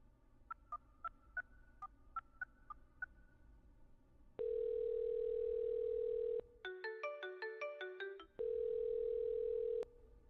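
Telephone line tones: a series of short beeps, then a loud, steady dial-type tone, a burst of rapid keypad-style beeps, and the steady tone again. The tones are clear and close, with no talking.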